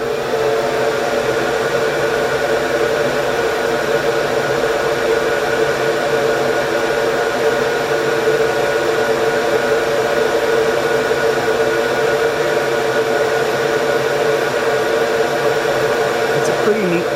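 An xTool F1 laser engraver runs loudly with a steady, droning mechanical whir that holds constant and close throughout, with no break in the sound.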